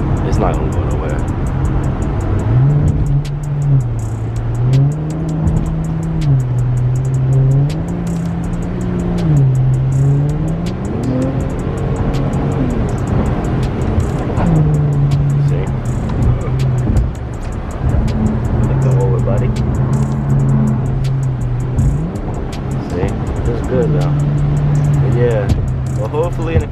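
An Infiniti Q50 being driven on a highway on a rainy night, its engine note rising and falling steadily as the car accelerates and shifts, with continuous road and wet-tire noise, and someone talking over it.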